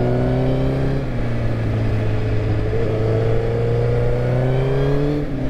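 A high-mileage Suzuki GSX-R1000 engine drones while riding on country roads, its strong tonal hum shifting pitch as revs drop and rise, loud and steady with wind noise underneath.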